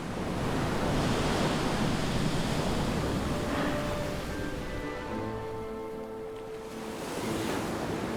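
Ocean swell and surf in the Atlantic off the coast roll in as a continuous broad wash, steady and fairly loud throughout, with some wind buffeting the microphone and no voices.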